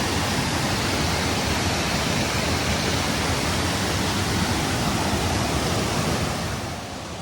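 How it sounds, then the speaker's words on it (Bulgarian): A 6-metre waterfall at Plitvice Lakes roars in a dense, constant broadband rush of falling water, loud and unbroken, easing slightly at the end. "Пише на една табелка, че е 6 метров водопада."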